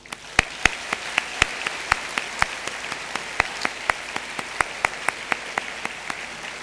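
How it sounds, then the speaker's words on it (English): Scattered, distinct hand claps at a graduation ceremony ring out one by one in a loose, fairly even rhythm, sharp and moderately close against a quiet hall. "Let us now give a round of applause to these groups of people for their love and support."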